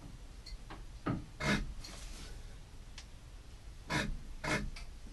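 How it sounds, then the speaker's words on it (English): A wrench turning the crank pulley of a Chris Craft 454 marine engine gives faint, intermittent scraping and ratcheting strokes, several short bursts spaced a second or two apart in a quiet room. "Let's put a wrench on the crank pulley."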